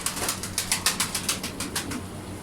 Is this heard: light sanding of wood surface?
no